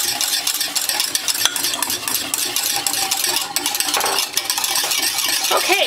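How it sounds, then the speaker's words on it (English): A whisk beats hollandaise sauce in a bowl for a steak and asparagus dish, making a steady, busy scraping and swishing that continues throughout at close range, with no talking. "Just keep whisking."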